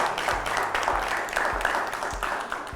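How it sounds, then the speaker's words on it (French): A studio audience on a French television show applauds steadily for a few seconds. The clapping is moderately distant and fairly quiet, with low thumps mixed in. "Sous vos applaudissements, s'il vous plaît."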